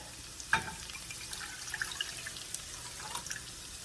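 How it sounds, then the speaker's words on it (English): Water poured into a small cooking pot on a stovetop, a faint splashing trickle with a few drips and clinks, quiet and close with no talking. "I'm going to add to this pot back here 1 3/4 cup of water"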